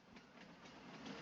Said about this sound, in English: The train. I'm like, what's that noise?